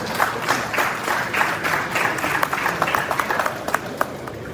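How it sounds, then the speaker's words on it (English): Applause from an audience at an economic forum, with scattered individual claps standing out over a thinner wash of hands, moderately loud and uneven throughout. "I think that deserves a round of applause."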